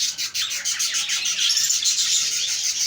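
Pet budgerigars chirp and twitter continuously in a breeding cage, a dense, lively chorus of many overlapping high calls, close and steady throughout.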